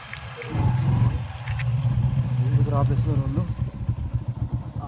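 A motorcycle engine hums steadily at a low pitch while riding at night, with voices talking over it.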